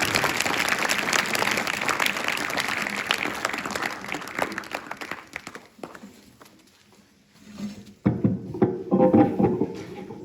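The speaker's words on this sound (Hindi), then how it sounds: "मैं चाहूंगा कि सभी बच्चे तालियों के साथ सर का स्वागत, अभिनंदन, और सर को आमंत्रित करें यहाँ पर। श्री अनूप सिंह पंवार जी।" Students at a farewell ceremony for a political science lecturer break into loud, dense applause that runs for several seconds, thins out into scattered claps and fades, then a few louder bursts return near the end.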